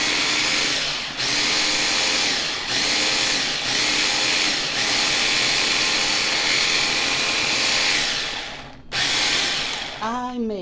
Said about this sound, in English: I'm just gonna put this lid back on this blender and mix it up